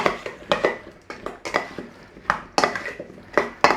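Brussels sprouts are tossed with salt and pepper in a bowl, giving a quick run of close, sharp clinks and scrapes in an irregular rhythm.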